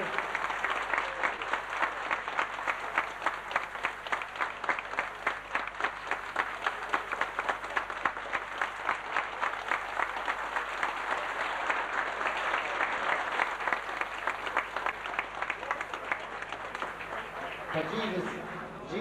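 Audience applause at a lunch celebrating a new priest's first Mass, long rhythmic clapping from a room of guests that holds steady before fading at the end, with a little talk mixed in.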